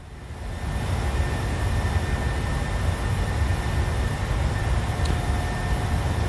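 Boeing 737 jet engines held at climb thrust in a flight simulator during a hydraulic failure scenario, giving a steady, loud broadband roar with a low rumble that holds constant throughout, no voices.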